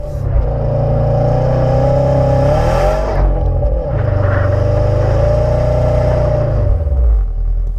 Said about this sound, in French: elle se demande pourquoi la voiture hurle comme ça